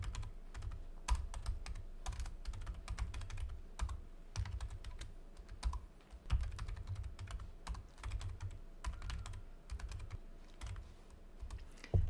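Fingers tap rapidly on a computer keyboard while entering data into a spreadsheet, producing a close, steady stream of crisp clicks with occasional louder key strikes and no voices.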